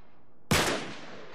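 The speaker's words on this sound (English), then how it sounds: "Back up, I'll shoot the lock." A single loud gunshot fired at a lock in Uncharted 3, a sharp close crack after quiet that decays quickly into a short echoing tail.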